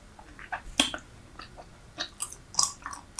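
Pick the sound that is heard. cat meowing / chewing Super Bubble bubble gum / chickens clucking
chewing Super Bubble bubble gum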